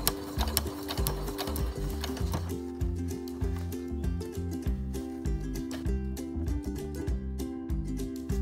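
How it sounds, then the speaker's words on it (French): A sewing machine stitches a baby bib at a slow, steady pace while turning the corners, its rapid mechanical chatter loud and close and continuous throughout with no talking. "dans les angles, je vais coudre tout doucement"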